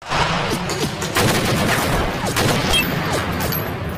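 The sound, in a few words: gunfire shootout in film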